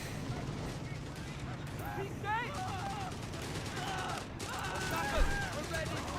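Gunfire from an MG42 machine gun in the Company of Heroes 3 strategy game, a steady crackling stream of shots heard under continuous talk, with a brief louder burst near the end.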